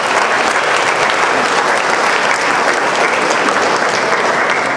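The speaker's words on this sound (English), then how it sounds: "I'd just like to give him an appreciation round of applause." Sustained audience applause fills a seminar hall, dense and steady clapping from a sizable crowd heard close and loud for several seconds with no talk over it.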